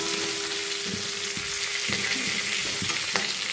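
A fish head fries in a pan of hot oil, a dense and continuous close sizzle with a few soft knocks and stirring clatters scattered through it.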